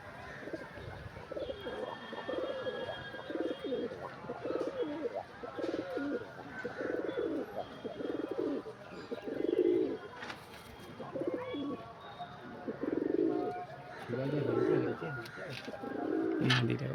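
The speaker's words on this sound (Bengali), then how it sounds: "এটা ম্যাচে ওড়া পায়রা।" Pigeons coo in low, repeated throaty bursts close by, with soft background noise and faint chirps throughout.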